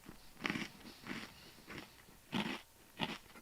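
Someone bites and chews a crunchy butter cookie with an apple filling and a sugar coating. Four or five close but faint crunches are spaced irregularly over a quiet background, with no talking.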